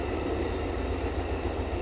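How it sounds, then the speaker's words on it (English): A short Amtrak test train passing by on the tracks, a steady, fairly quiet rumble of wheels and rail noise with no speech. "That's a test Amtrak. It's a very short car."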